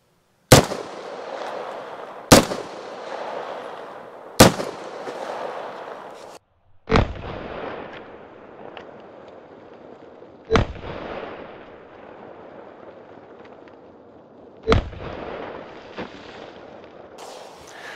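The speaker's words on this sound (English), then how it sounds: "I'm gonna pop them couple cans of shaving cream and then hit that boom boom bottle in the middle." Sharp, loud gunshots from a Beretta PMX submachine gun fired at shaving cream cans and a bottle at an outdoor range: seven single cracks spaced about two seconds apart, each trailing into an echoing rumble, with no talking.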